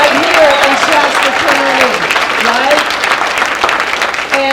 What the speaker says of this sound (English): please, let's have some applause